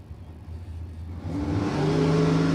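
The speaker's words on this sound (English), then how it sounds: "running a big block 460 Ford engine" A drag racing car with a big block 460 Ford engine roars louder and louder as it revs and accelerates at a Twilight Nationals eliminations event, ending in a loud, steady high-pitched whine.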